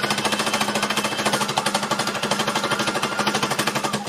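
An embellishing machine punches its needles through fabric with a fast, steady, loud mechanical hammering rattle that continues without a break.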